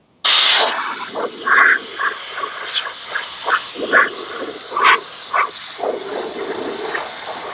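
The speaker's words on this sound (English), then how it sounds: "It is amazing how well that steamer is doing, and you can see the steam coming off of it." A steam cleaner is used on a moldy Aston Martin DB7 steering wheel, opening with a loud sharp hiss and then giving repeated short bursts of steam hissing at close range with no talk.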